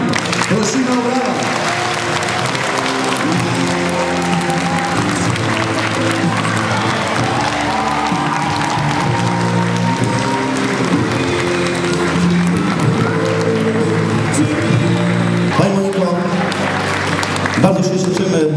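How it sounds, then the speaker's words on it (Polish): Sustained applause from a crowd runs throughout, layered over loud background music. "Prosimy o brawa."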